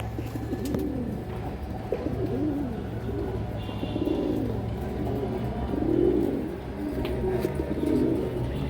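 Pigeons cooing at a pigeon farm, a layered, rolling chorus of low burbling coos from several birds nearby, steady throughout without talking.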